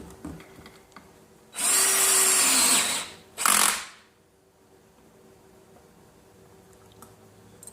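A power drill driving a bolt during chair assembly whirs in two bursts, a longer run of about a second and a half followed by a short final spin, then quiet.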